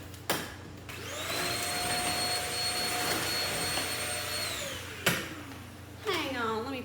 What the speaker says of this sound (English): Okay, I'm going to vacuum real quick. This is my Shark. It's a rocket.